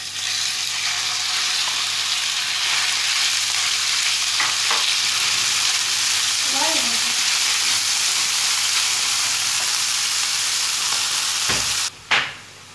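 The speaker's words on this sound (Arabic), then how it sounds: "إذا هنا سأحاول تحمير الدجاج قليلا ثم أضيف البصل" Chicken pieces fry in oil in a pan with a loud, steady, close sizzle that holds throughout, with a brief clatter near the end.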